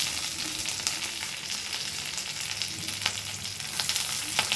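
Onion, green chili, curry leaves, crushed ginger-garlic and fennel sizzle steadily in hot oil with popping mustard seeds, a dense close frying hiss broken by occasional scraping stirs.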